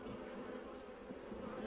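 Honeybees buzz around an open hive, a steady, soft, dense hum from many insects close by, with no talking.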